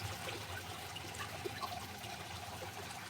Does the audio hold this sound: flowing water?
yes